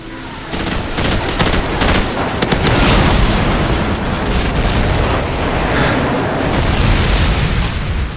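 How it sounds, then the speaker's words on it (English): Video game firefight with a friendly airstrike: dense, continuous booming explosions and bursts of gunfire fill the whole stretch, loud and close with no pauses. "Friendly airstrike on the way."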